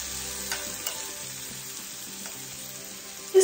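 Salmon fillets seasoned with herbs sizzle steadily on an indoor kitchen grill, a soft continuous crackle and hiss with faint clicks, low in level and without voices.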